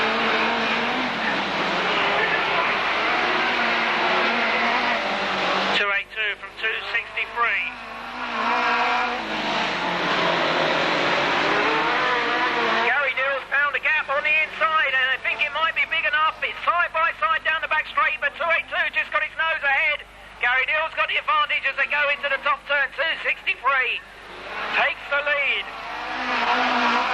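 Rear-wheel drive hot rod race cars circle a track in a 1991 Braintree auto club meeting, engines roaring and rising in pitch as they pass, loud and sustained, with a commentator talking over the racing throughout.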